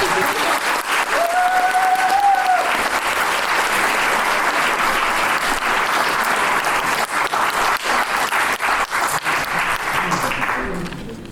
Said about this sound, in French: Encore un tonnerre d'applaudissements, je pense qu'il le mérite.